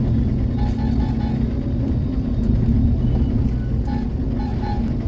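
Steady low rumble of road traffic stuck in a jam, engines idling and creeping close by with faint horn-like tones now and then, continuous throughout.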